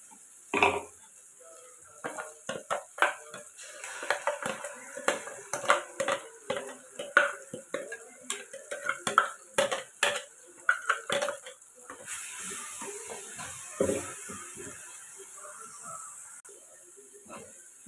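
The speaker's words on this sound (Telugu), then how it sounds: "మసాలాని ఆయిల్లో బాగా ఫ్రై అవ్వనివ్వాలి." Masala paste frying in oil for fish curry, a low sizzle under repeated clinks and scrapes of a spoon stirring against the pan, with a steadier hiss toward the end.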